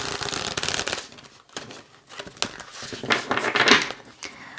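Oracle cards being shuffled by hand, a steady papery riffling and flicking that runs almost continuously in close, soft bursts with brief pauses, with no talking.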